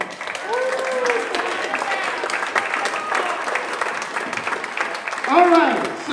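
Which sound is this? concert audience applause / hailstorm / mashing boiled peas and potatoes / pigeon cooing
concert audience applause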